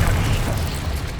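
A Bombarda spell explosion in Hogwarts Legacy, a short, dense blast with a heavy low-end rumble, loud and close.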